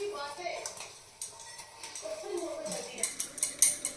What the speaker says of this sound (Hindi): तो बस अब मैं फटाफट कर लेती हूँ बर्तन साफ।